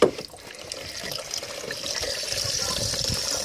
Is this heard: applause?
no